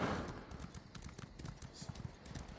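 Horse hooves clip-clop steadily in Elder Scrolls Online, a quick rhythmic run of soft thuds at moderate level, fairly close, with no talk over them.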